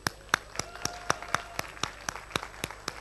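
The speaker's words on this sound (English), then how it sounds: "Please applaud yourselves" A few people at a business networking members' day clap in an evenly spaced rhythm, sharp distinct claps roughly every quarter second, close and sparse rather than a full crowd.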